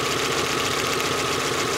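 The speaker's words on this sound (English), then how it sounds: "with the engine idling once again" A VW Jetta engine idling with a misfire fault, a steady close-up mechanical rumble with a fine rapid ticking pulse throughout the short stretch, no talk.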